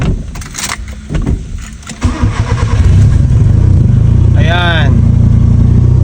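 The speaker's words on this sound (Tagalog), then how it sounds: "papaandarin ko lang yung sasakyan" A Nissan Sentra being restored is cranked and its engine catches, rising from intermittent starter noise into a loud, steady idle close by; a brief voice-like whine appears near the end.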